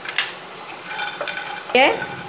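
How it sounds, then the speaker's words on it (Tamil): Raw groundnuts roasting in a pan, heard as quiet, dry scraping and stirring with a few sharper clinks of utensil against metal, including one louder scrape near the end. "இதை நல்லா வறுத்து எடுத்துக்கிடுவோம், ஃப்ரை பண்ணிக்குவோம்"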